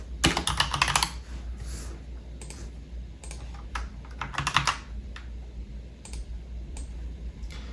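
Typing on a computer keyboard, bursts of rapid clicking keystrokes with short pauses between them, close and clear over a low steady hum, without any speech.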